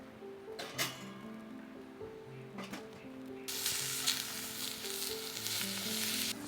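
Red onion and capsicum sizzle and fry in oil in a pan over a campfire, a steady hiss that swells louder partway through, with a few clanks of utensils against the pan.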